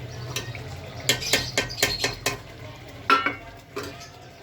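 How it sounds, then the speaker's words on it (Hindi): Potato koftas go one after another into fried masala in a pan, a quick run of soft thuds and splashes over a faint sizzle, followed by a brief stirring scrape. "ये देखिए हमारा मसाला भून चुका है। अब इसमें मैं कोफ्ते डालती हूँ।"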